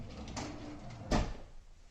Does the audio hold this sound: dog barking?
no